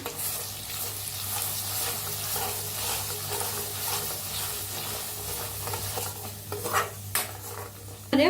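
Masala paste with curry leaves being stirred and roasted in about a tablespoon of hot oil in a pan, steady sizzling with a spoon scraping and stirring throughout, a couple of louder clanks near the end.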